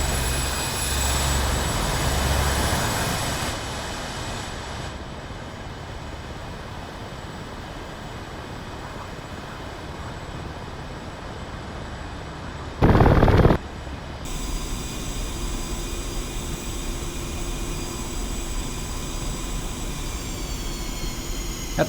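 A Su-25T attack jet taxiing in a flight simulator, a steady engine whine and rumble droning throughout, with a brief loud burst midway and a faint high tone afterward.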